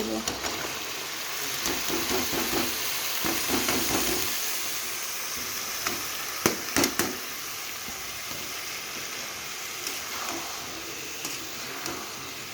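Vegetables sauté with koi fish in a curry pan, giving a steady hissing, steaming sizzle with a few sharp clinks and scrapes, while a voice talks at times over the cooking.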